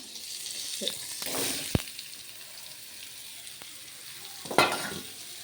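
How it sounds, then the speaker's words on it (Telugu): Bottle gourd pieces fry in a pan with a soft, steady sizzle, broken by a few clanks of a stirring utensil against the pan and one louder scrape near the end. "ఇప్పుడు సొరకాయ ముక్కలు వేపుకుందాం"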